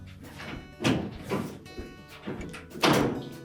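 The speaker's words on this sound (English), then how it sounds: "So we're just going to grasp that door, lift up on it." Door of a Whirlpool dryer being lifted off its hooked hinges, giving a few dull close-up knocks and rattling thumps spaced unevenly over a couple of seconds.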